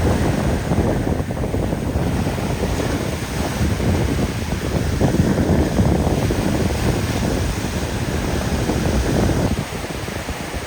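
Steady roar of surf and wind at a sunny beach, with continuous broadband wash of breaking waves and gusty wind buffeting the microphone throughout, no voices.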